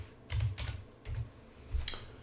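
Typing on a computer keyboard while searching for LibreOffice templates in Linux Mint, three short clusters of soft keystrokes close by with brief gaps between them.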